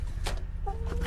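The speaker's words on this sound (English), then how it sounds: "Hello chickens." Chickens in a snowy winter run cluck close by in short, quick bursts, with a steady low rumble underneath.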